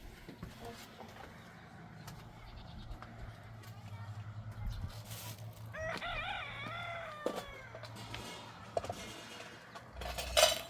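A small flock of about three or four hens clucks as a rooster crows once at mid-distance, over a low steady hum, with people talking faintly in the background.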